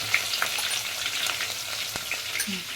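Curry leaves fry in oil in a pan while gongura chutney is being made. The sizzle is loud and continuous, with stirring sounds close by and no talk.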